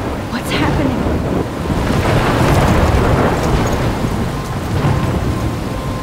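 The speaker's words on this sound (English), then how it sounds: "I'm trapped in a storm?" A thunderstorm in the game Life is Strange: a continuous loud roar of heavy rain and wind with rumbling thunder building in the middle.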